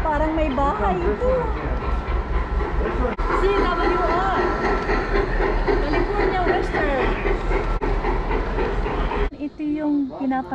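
A train passes near a botanical garden in Mendocino County, California, with a continuous loud rumble and rhythmic clatter that ends abruptly near the close, while people talk excitedly over it.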